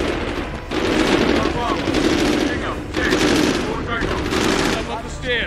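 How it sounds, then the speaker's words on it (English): Sustained automatic gunfire rattles loudly and continuously in a Medal of Honor Warfighter battle, dense bursts of covering fire with brief pauses, voices faintly mixed in beneath the shooting. "Provide covering fire to pick them off."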